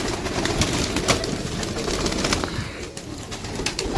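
Commander pigeons coo in a close group, with overlapping throaty calls, scattered wing flutters and sharp clicks forming a busy, fairly loud chorus.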